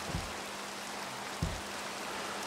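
Steady rain in Minecraft hisses evenly throughout, with two brief low thumps breaking the constant wash of falling water.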